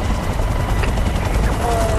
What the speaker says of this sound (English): Helicopter is on its way now